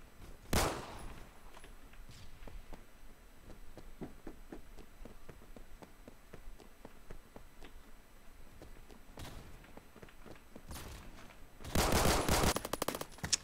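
Gunfire from the video game Phantom Forces, with sharp shots near the start and around the middle, steady low crackle of game sound, and a loud dense burst of automatic fire near the end.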